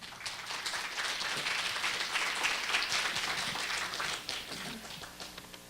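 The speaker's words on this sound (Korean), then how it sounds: "뜨거운 박수 부탁드립니다." Audience applause at a Korea University KU-KIST graduate school entrance ceremony, a dense, steady wash of many hands clapping that holds for several seconds and eases slightly near the end, with no talk over it.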